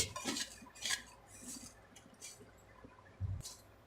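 Ginger garlic paste, ghee and spices being mixed into beef for gola kabab: soft, faint clinks and scrapes of a spoon against a bowl in a few irregular strokes, close but quiet, with no talk.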